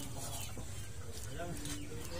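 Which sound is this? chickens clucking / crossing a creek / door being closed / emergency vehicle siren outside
chickens clucking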